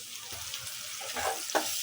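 Ginger garlic paste sizzling as it goes into a hot frying pan of oil while cooking a rohu fish and vegetable stem curry, a steady close frying hiss with a few brief stirring bursts.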